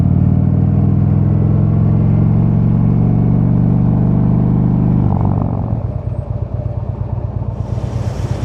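An old Harley-Davidson motorcycle engine rumbling loud and close, a deep steady lumpy idle that shifts midway to a rougher, lighter throb as revs drop, with wind noise near the end.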